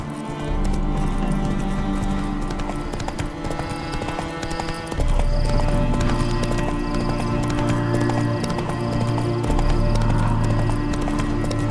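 Horse hooves gallop in a steady rhythmic clip-clop in The Witcher 3 on Death March difficulty, loud and continuous over game music and ambient layers, with no talk.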